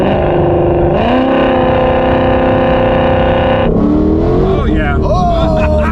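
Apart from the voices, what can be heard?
Ford GT500 with Whipple supercharger accelerating hard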